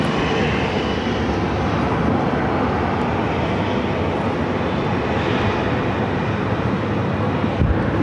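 An American Airlines jet on a runway at Phoenix Sky Harbor roars steadily and loudly, a broad continuous engine rumble with wind buffeting throughout.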